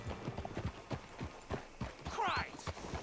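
Steady clip-clop of horse hooves at a walking pace, close and distinct, with a brief whinny-like sound near the end, from the video game Red Dead Redemption 2.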